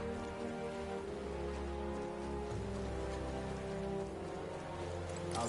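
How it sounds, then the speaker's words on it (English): Steady rain falling in the video game Metaphor ReFantazio, a continuous soft hiss of drops under a low musical drone, with no voices. "Rain?"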